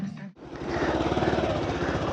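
After a brief pause, a motorcycle's engine starts and settles into a rough, close, continuous rumble as the bike is taken out.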